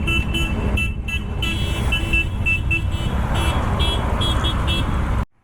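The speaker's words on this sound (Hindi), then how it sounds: "हॉर्न बज गए हैं कि चलो जल्दी।" Vehicle horns honk in repeated short toots over a steady roar of road traffic on a morning drive from Delhi toward Mathura, loud and close, before the noise suddenly cuts off.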